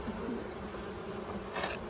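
Honeybees drone in a continuous, steady buzz from an open hive mid-inspection, the swarm close and dense throughout with a brief brighter swell near the end.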